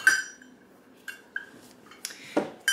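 Medium-size saucepan handled on a kitchen counter for fudge-making, a few separate metallic clanks and clinks, close and clear, with short ringing tails and a duller knock near the end.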